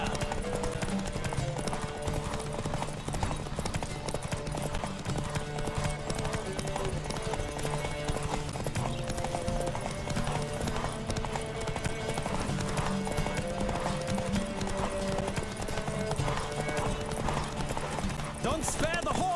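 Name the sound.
horse galloping, from a video game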